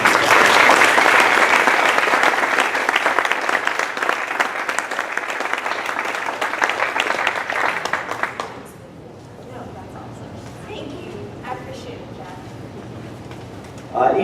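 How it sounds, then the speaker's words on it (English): A room of people at a neighbourhood association's annual general meeting gives a loud, sustained round of applause for about eight seconds; it then drops away to a quiet room with faint scattered sounds. "we'd like to give you a round of applause"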